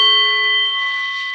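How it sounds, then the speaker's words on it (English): A meditation gong or bell struck once before a breathing exercise, its bright metallic tone ringing loud and steady with layered sustained overtones, slowly fading across the whole moment with no talk. "So when you hear this gong,"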